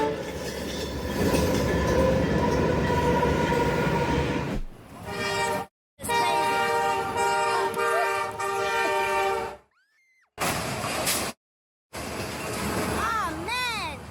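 A train hitting a car at a level crossing, with loud rumbling rail noise and a sustained blaring train horn, cut into short segments with abrupt silent gaps and a few whistle-like squeals near the end.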